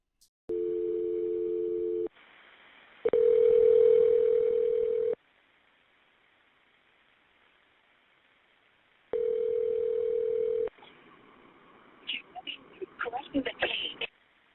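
Police dispatch calls back a 911 caller over the phone: steady dial tone, then two long ringback tones separated by a gap, followed by brief dialing-like tones near the end, thin and telephone-filtered.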